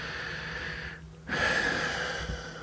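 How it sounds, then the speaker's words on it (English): A deep breath drawn in during a guided tapping relaxation exercise, a soft airy inhale close by, with no talking over it. "take a nice big deep breath for me"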